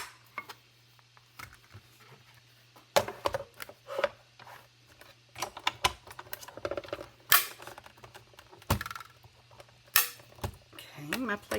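Die-cutting machine with slightly warped plates pressing paper and dies through, a sequence of close, irregular clicks, knocks and cranking snaps over a low steady hum.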